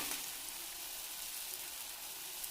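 Tomato roasting in a hot pan with turmeric while cooking a dry drumstick stir-fry, giving a soft, steady hiss of sizzling with no breaks.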